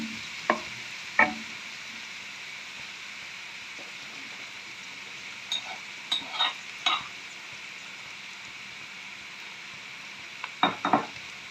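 Onions softening in a hot pan while being stirred: a steady sizzling hiss with a few scattered utensil clinks and scrapes against the pan, close by, with no voices.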